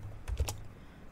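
A short burst of two or three soft computer keyboard keystrokes is typed in quick succession, close and quiet, with no talking.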